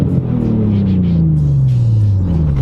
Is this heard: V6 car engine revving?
yes